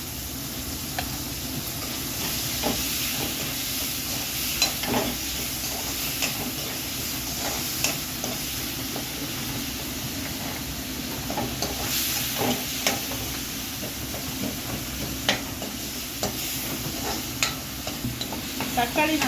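Fish curry masala sizzles steadily in a pan while a spoon stirs and scrapes through it, with frequent small clinks over the continuous frying hiss.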